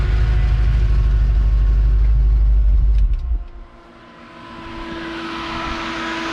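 A loud, steady engine rumble from a Chevy Caprice fills the first half, then drops away abruptly as the car is switched off, leaving a quieter cooling-fan whir that slowly builds back up.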